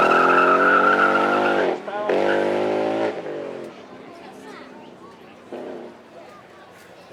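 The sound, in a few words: Ford Mustang RTR 5-litre V8 drift car on track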